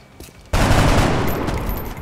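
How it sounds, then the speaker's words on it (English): An assault carbine fires in a burst of rapid, loud shots during XCOM Long War gameplay, starting abruptly after a short quiet lead-in and rattling on to the end. "Assault carbine actually ended up being useful"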